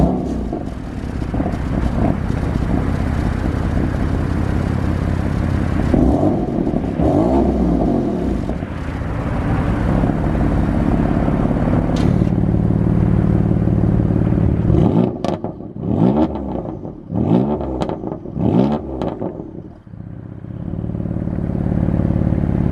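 A warm 2015 BMW M3 F80 engine starts up in efficient mode, cranking and catching into a loud, rough idle, followed by several quick revs that rise and fall before settling back to a low rumble.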